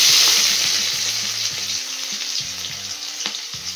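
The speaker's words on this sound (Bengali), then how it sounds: "তেজপাতা, লঙ্কা ফোড়ন দিয়ে দিয়েছি।" Dried red chillies and bay leaves frying in hot oil for egg tadka, a loud bright continuous sizzle close up with rhythmic low scraping and clinking of a utensil against the pan; no talking.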